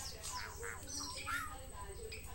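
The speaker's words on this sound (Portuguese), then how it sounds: "E olha os pássaros aí cantando." Birds chirp and call outdoors among fruiting pitanga trees after light rain, a scatter of short bright tweets over steady background noise, with a person talking at times.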